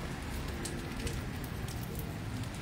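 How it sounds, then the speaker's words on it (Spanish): Steady rain falls during the first rain of 2023 in San Juan de los Lagos, Jalisco, a continuous even hiss with light patter, close and moderately loud, with no voices over it. "Ya hacía falta la lluvia, ¿verdad?"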